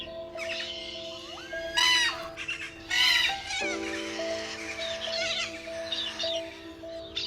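Birds squawk and chirp in bursts over a steady droning background at Taronga Zoo's free flight bird show, with several loud calls standing out near the middle.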